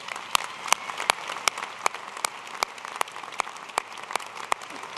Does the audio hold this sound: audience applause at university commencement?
yes